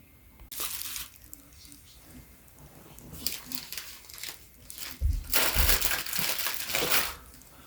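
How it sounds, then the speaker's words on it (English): Plastic grocery bags crumpled and handled close up, crackling and crinkling in bursts that grow louder and denser near the end, with scattered rustles between. "I went ahead and grabbed some plastic bags just to show you how it works"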